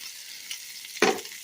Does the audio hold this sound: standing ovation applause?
no